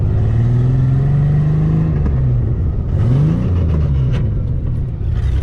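Ford Bronco engine revving off road, a loud steady rumble with rising and falling pitch sweeps as the throttle opens and eases, continuous and close throughout.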